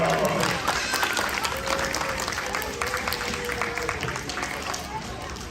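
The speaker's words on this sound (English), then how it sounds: "Let's give a round of applause." Elementary school audience at a science show applauding, a broad wash of clapping that starts loud and slowly tapers, with children's voices and cheers mixed in.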